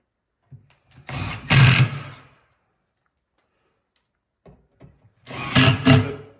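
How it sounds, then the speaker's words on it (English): A power driver sets black screws into the back panel of an RTA cabinet in two separate whirring bursts of about a second each, loud and close, with quiet pauses between them. "we're going to fasten the back panel now. I'm going to use these black screws."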